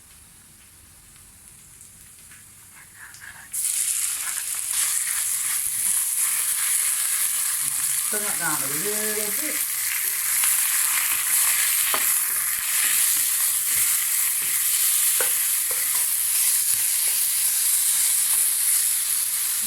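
Chicken hitting hot oil for fried rice bursts into a loud, sudden sizzle that holds steady and close, with stirring clinks and scrapes and a brief spoken remark over it.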